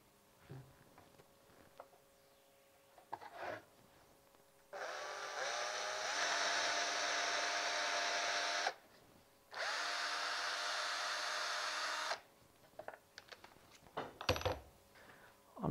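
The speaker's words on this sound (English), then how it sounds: "I'm going to run a 5mm drill through the center of it" A power drill whines steadily in two long bursts with a short pause between, close by, running a 5mm bit through the center of a toggle clamp part, followed by clinks of metal being handled.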